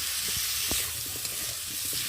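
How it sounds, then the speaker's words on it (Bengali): A spice paste of cumin, ginger and garlic with tomato fries in a pan for a cauliflower dish, giving a loud, continuous close sizzle broken by soft taps and scrapes of stirring. "আর একটা টমেটো দিয়ে মশলাটা ভালো করে কষিয়ে নেব"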